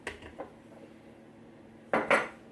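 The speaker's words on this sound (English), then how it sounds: "put you're going to measure the sugar into the middle bowl now" Sugar is measured into a mixing bowl for cookies, heard as a few light clinks of a spoon against the bowl, then a louder double clatter near the end, with no talk.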